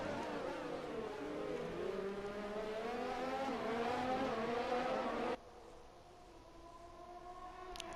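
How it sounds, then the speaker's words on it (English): Formula 1 race cars in the F1 2020 video game roar past with high, wavering engine notes that rise and fall, loud and continuous before the sound abruptly cuts to a quieter engine hum. "Now Hamilton once again on the back of Verstappen."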